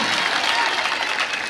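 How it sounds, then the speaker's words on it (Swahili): A church congregation at a thanksgiving service breaks into a short, brisk burst of applause, a dense patter of many hands clapping together. "Wapi makofi mazuri ya Embassy TV?"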